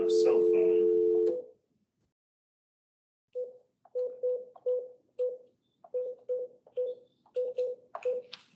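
Dialing tones while calling a cell phone from a Webex Calling setup: a long steady tone, a pause, then a quick run of about a dozen short touch-tone beeps, with speech at the start.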